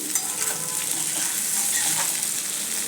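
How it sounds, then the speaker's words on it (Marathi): Jowar flour and fenugreek mixture sizzles steadily as it is sautéed over medium heat in a small kadai, a dense continuous frying hiss with faint stirring scrapes, close and alone without talk. "मीडियम गॅसवरती एक दोन ते तीन मिनिटं याला व्यवस्थित असं परतून घ्यायचं आहे"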